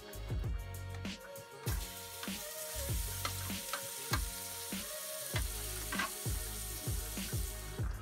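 Andouille sausage fries in a pan with a steady sizzle, broken by repeated scraping and stirring strokes in a fairly even rhythm, close up and moderately quiet with no talking.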